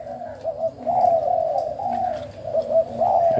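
A spotted dove coos repeatedly in soft, rhythmic phrases, close by and clear against a quiet background.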